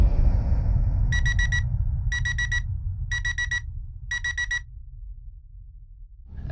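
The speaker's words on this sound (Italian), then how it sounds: "poi alle ore 2:30 suona la sveglia" An alarm clock goes off in the early morning hours, sounding four loud, close bursts of rapid high beeps with even gaps, over a low steady hum.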